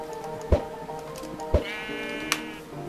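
Sheep bleating in the Minecraft video game, a few short bleats spaced about a second apart over background game music.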